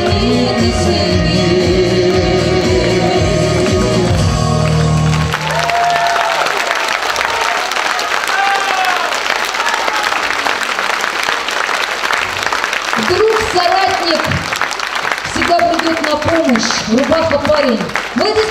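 Audience applause fills a concert hall for about 13 seconds after a song's music ends, steady and loud, with scattered voices and cheers mixed in and someone speaking over the clapping near the end.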